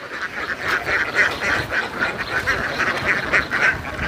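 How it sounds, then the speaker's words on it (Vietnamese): Ducks quack outdoors in a steady, busy chorus, many calls overlapping with a rhythmic pulse against light background noise. "Có vịt ở ngoài."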